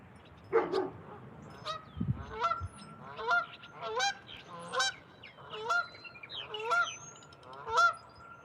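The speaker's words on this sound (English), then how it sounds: "Pretty geese" Geese honking repeatedly outdoors, a run of nasal calls at a fairly regular pace, moderately close, with a low thump early on and no talking.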